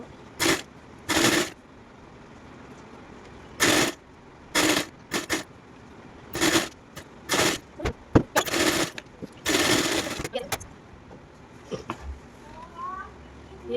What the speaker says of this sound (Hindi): यहाँ से पकड़ के इसको सिलाई लगा देंगे।